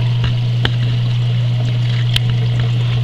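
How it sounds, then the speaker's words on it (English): Water flows steadily down an algae scrubber screen in an aquarium sump, a soft continuous trickle over a constant low pump hum, with a couple of faint splashy ticks and no speech. "So it's flowing down the screen right now."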